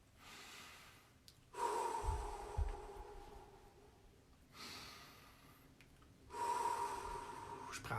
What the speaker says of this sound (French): Je prends 2-3 bonnes respirations, je me calme